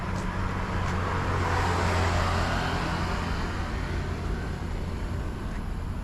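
Cars speeding along a main road on the Cotai Strip in Macau at night, a continuous broad traffic rumble heard from a distance with no talk over it.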